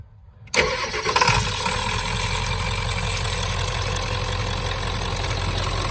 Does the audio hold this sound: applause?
no